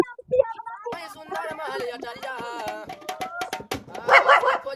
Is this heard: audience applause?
no